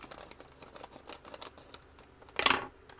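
Scissors cutting open a Halo figure blind bag, light crinkling and clicking of the foil packet followed by one sharp loud snip-and-tear near the end, close and alone.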